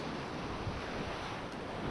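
Ocean waves break and wash in steadily along a Hawaiian shore, a constant, loud roar of surf and whitewash with wind buffeting the microphone.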